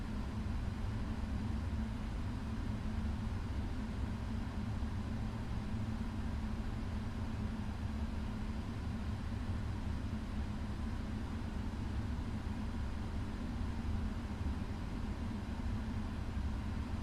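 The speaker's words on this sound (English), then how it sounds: "Can you all hear the engines now?" Steady, unbroken jet engine drone of a PMDG 777F freighter in Microsoft Flight Simulator, a dense low roar with a broad hiss on top, even in level throughout with no talking.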